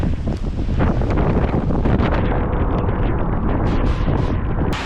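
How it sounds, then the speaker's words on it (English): Strong wind gusts buffet the microphone while cycling on a trail, a loud, continuous roar with surging gusts, no voices heard. "Those are some gusts."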